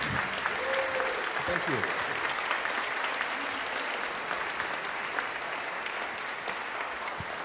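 An audience at a Q&A session gives dense, sustained applause at an even level, with a single brief voice speaking over the clapping.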